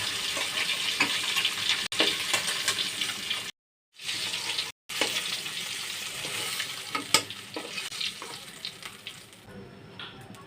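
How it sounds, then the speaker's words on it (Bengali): Hilsa fish pieces fry lightly in a pan with a dense, crackling sizzle and scattered spatula taps, cut by two brief silent gaps. No one speaks over the frying. "এখন ভেজে নিচ্ছি মাছগুলো"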